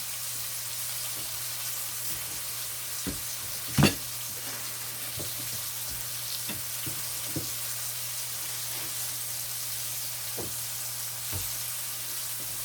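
Flying fish frying in a pan with a steady, quiet sizzle throughout, broken by a few soft clicks and one louder clatter of handling near the pan; no talking.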